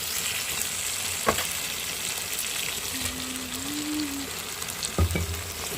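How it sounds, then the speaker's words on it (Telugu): Ginger, garlic and raw coconut paste frying in a pan, a steady hissing sizzle with a couple of faint clinks of a spoon and a brief tonal whine in the background. "ఇంకోసారి అల్లం వెల్లుల్లి పచ్చి కొబ్బరి పేస్ట్ కూడా వేసేస్తాము"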